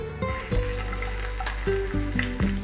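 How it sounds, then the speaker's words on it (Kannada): Mustard seeds, garlic, ginger and onion sizzle steadily in hot oil for a soup, with a few soft stirring clatters rising over the continuous fry, close and alone without talk. "ಇದರಲ್ಲಿ ಸ್ವಲ್ಪ ಎಣ್ಣೆ ಹಾಕೋಣ ಇದರಲ್ಲಿ ಸ್ವಲ್ಪ ಸಾಸಿವೆ ಸಾಸಿವೆ ಆದಮೇಲೆ ಸ್ವಲ್ಪ ಗಾರ್ಲಿಕ್ ಅದರ ಜೊತೆ ಸ್ವಲ್ಪ ಶುಂಠಿ ಈರುಳ್ಳಿ ಹಾಕೋಣ"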